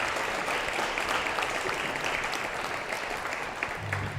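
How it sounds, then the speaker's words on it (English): A crowd claps steadily, a dense wash of applause that holds for several seconds without letting up. "let's give them a round of applause for their patience and understanding"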